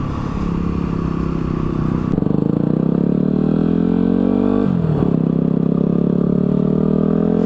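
Motorcycle engine heard from a helmet-mounted camera while accelerating up through the gears, a loud close drone that rises steadily in pitch, drops sharply at each shift, then climbs again, with wind rush behind it.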